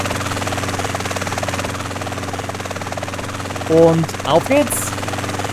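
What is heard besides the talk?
helicopter in video game GTA San Andreas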